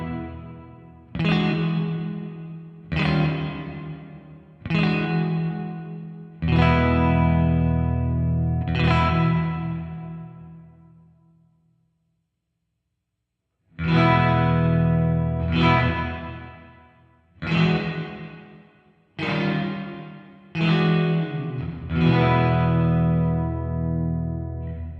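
Electric guitar through Line 6 Helix and Fractal reverb effects, in two phrases of struck distorted chords with long washy tails, the first fading out into silence before the second begins, loud and upfront with no talking.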